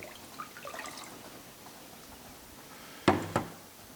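Apple cider vinegar pours into a pot of water in a home kitchen while pickles are being made: a short, close splash of liquid lasting about a third of a second, with a second smaller splash right after, following a quiet stretch.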